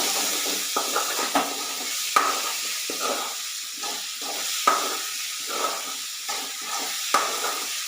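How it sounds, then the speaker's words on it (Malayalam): A spoon stirring a salted tomato curry in a pot over a steady background hiss of cooking, with regular scraping strokes and soft clinks roughly every second, close and moderately loud, no voices. "നല്ലോണം ഒന്ന് ഇളക്കി കൊടുക്കാം."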